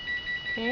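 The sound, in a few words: phone ringing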